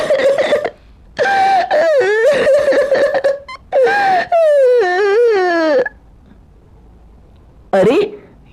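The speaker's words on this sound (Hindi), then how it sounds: "तभी उसे रोने की आवाज आती है" A cartoon character cries and wails in a Hindi animated folk story set in a forest, with sobbing, quavering bursts separated by short pauses, loud and close.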